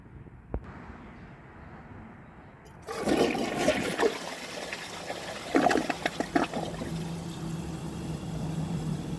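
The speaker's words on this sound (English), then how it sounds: "So let's give this a flush and see how it does on tests." A 2021 Mansfield Denali toilet flushes with the original flush-valve parts, a sudden close rush of water that swirls and gurgles for several seconds, short and weak, after a quiet start.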